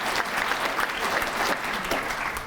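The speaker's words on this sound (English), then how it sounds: "If we could clap it up for the committee, I think that would be" An audience at a sports hall of fame induction ceremony gives the committee a steady, dense round of applause that stays loud throughout.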